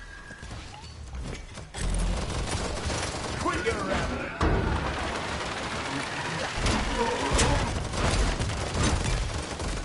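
Gunfire and explosive booms in the video game Paladins, with bursts of shots and impacts layered over busy battle effects and mechanical sounds, fairly loud and dense through most of the stretch.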